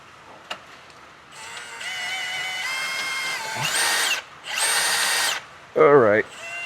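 A power drill fitted with a small attachment whirs in several short bursts, each a steady whine lasting about a second, with a higher-pitched wavering burst at the end and quiet pauses between.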